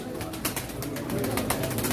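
Pigeons at a pigeon auction flutter and coo in a brief, close burst of wingbeats and soft calls, with faint crowd noise behind.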